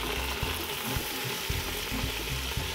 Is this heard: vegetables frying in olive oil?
yes